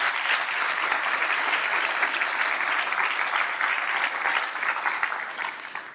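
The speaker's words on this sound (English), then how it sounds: "Please join me in a round of applause to thank them." Conference audience applauding at a presidential address, a sustained, even round of dense clapping from a large crowd throughout.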